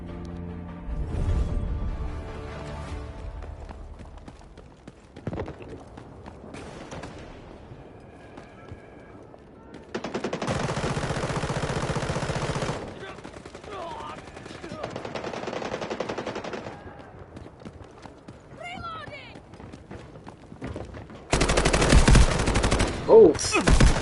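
Gunfire in the video game Delta Force, with bursts of automatic shots arriving in several loud stretches separated by quieter gaps, plus scattered single reports.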